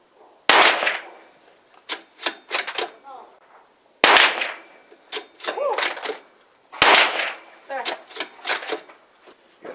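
Gunfire from other shooters at an outdoor shooting range, sharp distant cracks arriving in three clusters of several shots each, with gaps of quiet between them.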